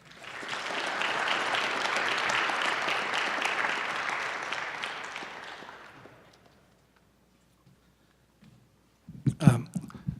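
Audience at an evening event applauding to welcome a speaker, steady dense clapping from many people that fades out after about six seconds, followed by silence and then a brief close voice.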